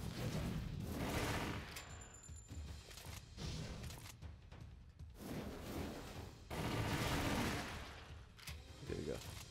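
Gunfire in Resident Evil: Umbrella Chronicles, with dense, continuous bursts of rapid shots and a shotgun, steady and loud across the whole stretch, with brief lulls and a faint mechanical ping near the start.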